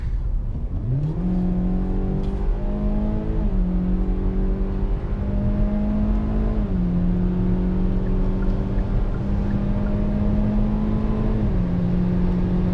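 A 2021 Hyundai Elantra SEL engine hums steadily from inside the cabin while driving slowly, its tone stepping up and then dropping at several points as the transmission shifts, smooth and continuous with no talk.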